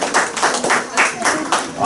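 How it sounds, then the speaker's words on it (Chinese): Children and an audience at a school Children's Day celebration in Taiwan clap in a rhythmic unison beat, about seven firm claps in under two seconds, close and fairly loud. "好，掌声鼓励。"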